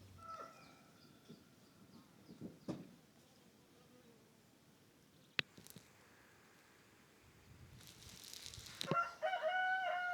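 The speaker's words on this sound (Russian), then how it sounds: "Петухи тут меня окружили, думали, я им вкусняшку принесла какую-то" Roosters on a farm crowing and clucking faintly at a distance in a quiet yard, with a louder crow near the end.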